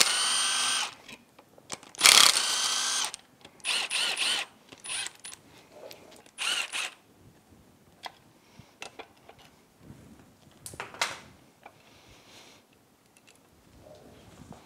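A ratchet wrench loosening cylinder head bolts during a Yamaha F225 outboard powerhead teardown, giving close, loud bursts of rapid clicking separated by pauses and quieter metallic handling noises, with no speech.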